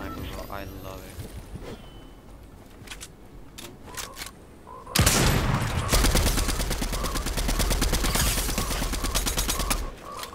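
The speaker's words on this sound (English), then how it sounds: "I love the new sniper, bro." Gunfire from a sniper rifle and an automatic rifle in the battle royale game Fortnite: a dense, loud barrage of rapid shots kicks in halfway through and runs to the end, following quieter game sounds.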